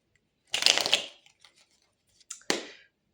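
Tarot cards are drawn in two quick bursts of papery rustling and snapping: a longer shuffle first, then a short flick about two seconds later. The sound is close, with silence in between.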